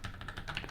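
Light, quick keystrokes on a computer keyboard as a password is entered into a terminal, soft and close, a steady patter of taps under a faint background hum.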